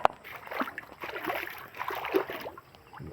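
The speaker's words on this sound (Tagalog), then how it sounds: "ang ating munting sapa." Water sloshes and splashes irregularly in a small flooded creek where the road has washed out, soft and fairly close, with faint speech mixed in.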